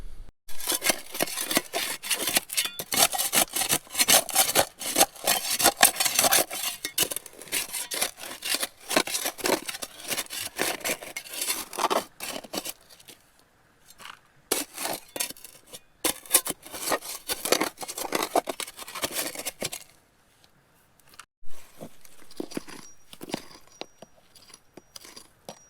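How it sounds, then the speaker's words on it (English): Wire brush scrubbing out the bottom of a rock crevice while prospecting for gold, a dense series of close, harsh scratching strokes in bursts with brief pauses, no voices. "the bottom of the crevice is cleared out, wire brushed, it's all in the pan."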